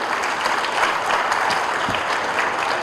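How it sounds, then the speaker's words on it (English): An audience of youth at a national summit applauding, a dense continuous clapping from a large crowd in a hall, loud and even throughout. "So a big applause for the youth sitting here."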